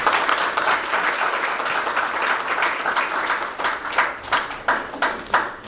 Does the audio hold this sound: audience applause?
yes